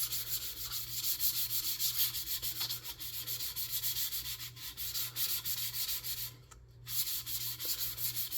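An Estes Hi-Flier XL model rocket gets a very light pass with 600 grit sandpaper, a soft close rhythmic rubbing scratch of steady back-and-forth strokes with one brief pause, no voices.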